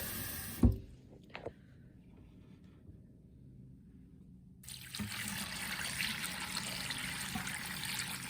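Cold water pouring into a stockpot of bones for brown stock, a steady splashing rush that starts after a few scattered clinks and quiet handling and runs on continuously.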